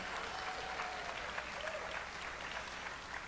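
Steady applause from an audience fills the space, a dense even patter of many hands clapping throughout, with no voices standing out.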